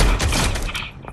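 Sniper rifle shot in a video game fired at a gliding target, a single loud, broad crack and boom that rolls off over about a second, close and clear with no talk over it.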